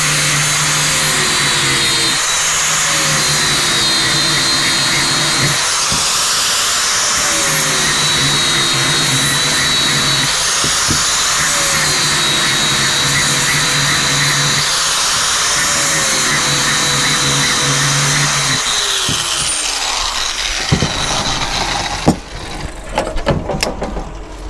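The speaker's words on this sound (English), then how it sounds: "let's grind this off at the top" An angle grinder grinding metal off the top of a finish mower receiver, a loud sustained high whine that rises and dips as the tool presses in, then stops and gives way to a few clanks.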